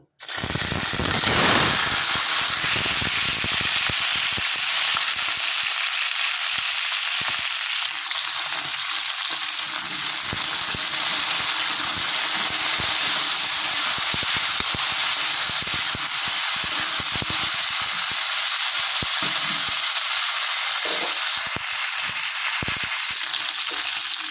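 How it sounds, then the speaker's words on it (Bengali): Cauliflower pieces frying in hot oil give a loud, steady sizzle and hiss that runs unbroken throughout, with occasional stirring scrapes mixed in. "এদিকে তেল গরম হয়ে গেছে, দিয়ে দেবো ফুলকপিগুলো।"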